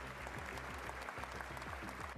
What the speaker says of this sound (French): il est accueilli par des applaudissements dans la cathédrale Notre-Dame de Paris.